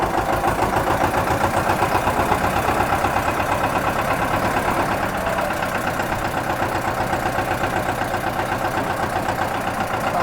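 An Eicher 312 tractor engine runs steadily at close range, a continuous rhythmic chugging throb that stays loud for the whole stretch with no talking.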